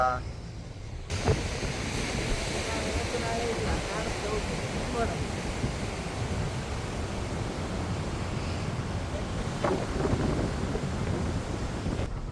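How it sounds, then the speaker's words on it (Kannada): Strong wind roars steadily across the microphone at Maravanthe beach, Karnataka, in a continuous rushing noise, with the wash of surf underneath. "ನಾವಿದ್ದೀವಿ ಮರವಂತೆ ಬೀಚಲ್ಲಿ ಫುಲ್ ಗಾಳಿ ಬರ್ತಿದೆ ಕೇಳಿಸ್ತಾ ಇದೆಯಾ ಇಲ್ವೋ ಗೊತ್ತಿಲ್ಲ"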